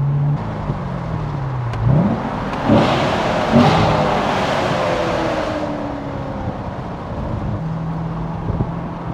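A C7 Corvette with its exhaust kept open revs, giving a loud engine roar that rises in pitch in a few quick pulls, then settles into a steady drone with wind noise.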